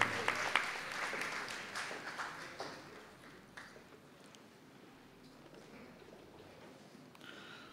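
Applause for a woman winning a neighborhood raffle draw, fading from a brief burst of clapping into a thin, quieter patter that trails away.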